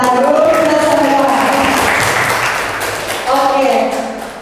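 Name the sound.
audience applause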